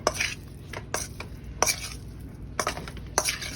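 Spoon stirring cumin and oregano through carne guisada, Puerto Rican beef stew, in a pot: several distinct scraping strokes at an irregular pace over a quiet low sizzle.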